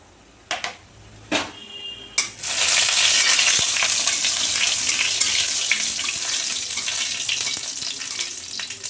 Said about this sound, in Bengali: তেল দিয়ে দেব হয়ে গেছে এবার বড়িগুলো দিয়ে দেব